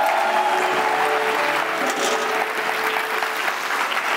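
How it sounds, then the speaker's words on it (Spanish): Church congregation gives the worship band a round of applause, a loud, dense and continuous roar of clapping with faint tonal traces beneath it, sustained for several seconds. "Le damos otro aplauso a los muchachos."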